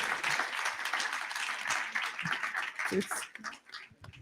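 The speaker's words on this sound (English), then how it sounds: "Big applause to WP3." Summit audience applauding a work-package team after their presentation, moderate clapping mixed with cheering and voices, fairly distant and uneven, thinning out toward the end.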